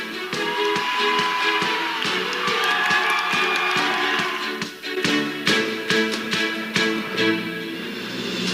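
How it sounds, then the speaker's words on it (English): Athletes in the stands cheering for teammates at a school meet, a lively crowd roar with shouts and some clapping mixed with music, steady and fairly loud. "The athletes that are not competing stay in the stands and wear the craziest outfits while cheering for their teammates who are competing."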